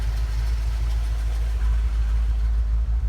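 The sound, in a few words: car engine running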